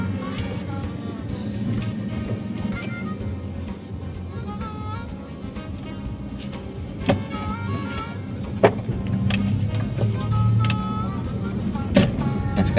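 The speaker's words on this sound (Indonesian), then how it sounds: "Sekarang gue bakal nyobain feel berkendara dari Toyota Vios di manual tahun 2008 yang gue jual ini" A 2008 Toyota Vios G with a manual gearbox is being driven, giving a steady low engine and road drone from inside the cabin, with a few faint clicks and knocks over the continuous hum.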